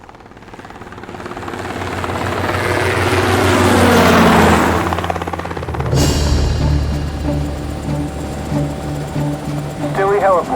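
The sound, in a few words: aircraft on final approach to land, radio drama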